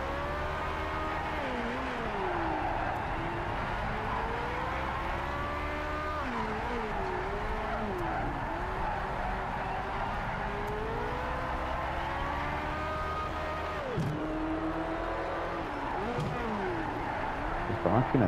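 A race car engine in the Project Cars 3 video game drones and shifts pitch steadily for the whole stretch, with gear changes and brief tire squeal over a constant hum.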